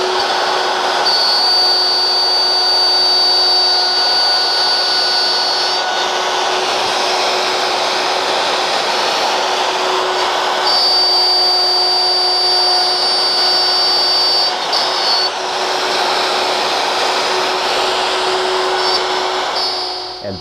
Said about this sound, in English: here's the process over again, at normal speed and unedited.